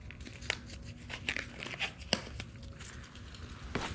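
Masking tape crinkles and tears in short, irregular bursts while a 1965 VW Beetle part is taped off during fuel tank and weld repair work, close and fairly quiet with no talk.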